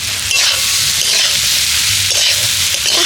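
Boiled, hand-mashed potatoes hit a pan of hot spice mix and sizzle loudly and steadily, a close, continuous frying hiss with no talking.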